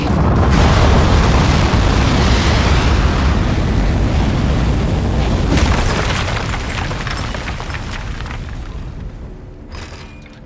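A desk launching into liftoff in the video game Aperture Desk Job, a loud sustained rocket roar that swells, then slowly fades over about ten seconds, ending with a brief crackle.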